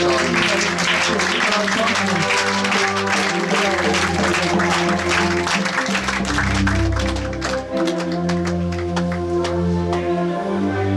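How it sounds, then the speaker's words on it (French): A church congregation at a Pentecost service in Kaolack cheers and applauds to welcome pastor Nicolas, a steady, loud roar of clapping and voices with sustained music underneath throughout. "Donc nous allons l'accueillir sous vos acclamations"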